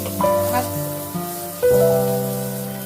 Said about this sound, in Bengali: দুটো বড় সাইজের পেঁয়াজ এখানে দিয়ে দিলাম দিয়ে আমি একটু ভাজা ভাজা করবো